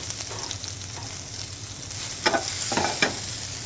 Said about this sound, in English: we have some bacon fat, throwing in some onions